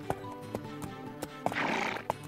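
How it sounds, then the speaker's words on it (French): A horse whinnies in a short, close, bright neigh over a background of rhythmic hoof clip-clops and music. "Le cheval tourne sur lui-même, un peu comme une ballerine."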